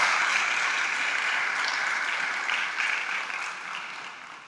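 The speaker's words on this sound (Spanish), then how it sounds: "Dale un fuerte aplauso al Espíritu Santo" Sustained applause from a church congregation at an evening service, a dense wash of many hands clapping together throughout, loud and steady before tapering slightly toward the end.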